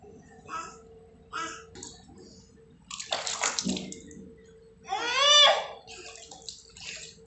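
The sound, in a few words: water running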